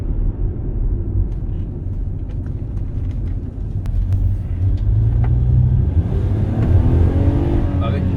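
A Toyota Highlander 4x4 with a 3.5-litre naturally aspirated engine accelerates, its deep low rumble building steadily and swelling toward the end, with some talk over it.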